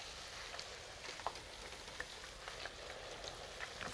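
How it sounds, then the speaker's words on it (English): Waffle-cut potatoes frying in hot oil, a faint, steady crackling sizzle with scattered small pops throughout, quiet and without speech. "While Leo's potatoes are frying away"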